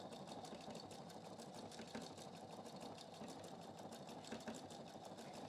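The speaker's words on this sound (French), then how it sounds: "Et là, donc je vais coudre mon bord-côte." A Pfaff QE 720 sewing machine runs at low speed while stitching rib trim, a faint, even mechanical whir with rapid repetitive ticking that continues without pause.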